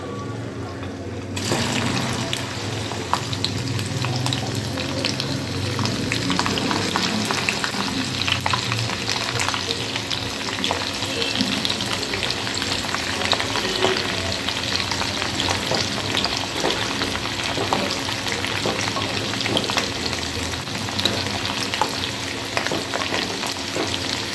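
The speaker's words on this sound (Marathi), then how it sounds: "आता तेल आपलं गरम झालेलं आहे, तर तेलात ही भेंडी मी अशी फ्राय करून घेते।" Okra frying in hot oil in a pan, a loud, continuous crackling sizzle that starts abruptly and holds steady throughout, no talking.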